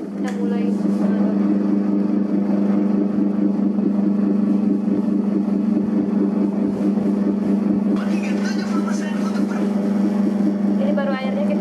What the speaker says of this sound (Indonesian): Setelah itu nyalakan mesinnya, kita mulai mengaduk.